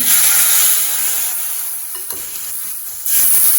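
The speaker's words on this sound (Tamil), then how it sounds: "இது கண்ணாடி பாத்திரம், பீங்கான் பாத்திரம், அதனால தான் தைரியமாக ஊற்றுறேன்" Hot tempering is poured into a glass or ceramic jar of instant vegetable pickle and sizzles as a loud, steady hiss that eases off, then flares up again near the end, with no talking.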